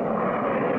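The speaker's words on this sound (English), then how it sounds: "There's that plane again!" A black jet plane roars loudly and steadily, close by, in a brief continuous burst with no voices.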